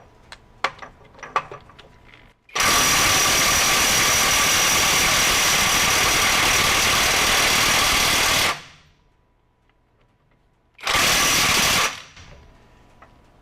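A Hercules HCB85B 20V brushless cordless impact wrench runs in reverse, mode 3, on a 12 amp-hour battery, trying to loosen a bolt torqued to about 2,100 foot-pounds. It gives a loud, steady hammering burst of about six seconds, then a shorter second burst.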